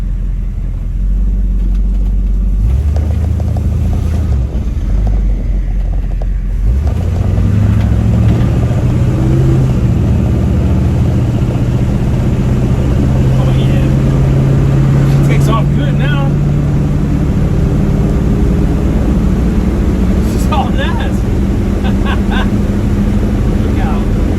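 A 1965 Chevy Nova wagon V8 fitted with a Holley carburetor and Edelbrock intake manifold idles with a steady low rumble, then revs up and holds a loud, rising drone close by, with a few faint voices underneath.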